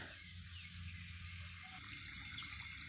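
Irrigation water runs after being switched on for a farm field in the morning, making a faint, steady, continuous rushing hiss with no voices.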